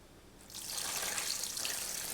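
Liquid for a turkey brine being poured into a container, starting suddenly and continuing as a steady, close splashing rush.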